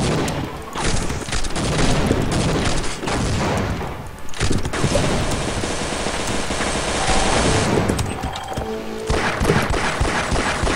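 Dense, loud bursts of Half-Life gunfire rattle almost nonstop, with brief gaps between volleys and heavy booming impacts.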